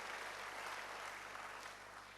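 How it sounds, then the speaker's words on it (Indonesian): Steady, dense clapping from a large church congregation, sustained at an even level throughout with no pauses. "Berikan tepuk tangan yang hebat bagi Tuhan"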